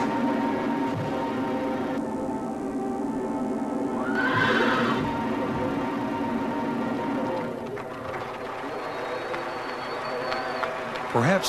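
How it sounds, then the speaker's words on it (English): Horses neigh and whinny at a royal horse show in Ireland, a loud whinny rising near the middle over a steady blend of crowd noise and music, with faint hoof sounds mixed in. "today's Irish are united by the sound of a horse's hooves striking lightning from the earth"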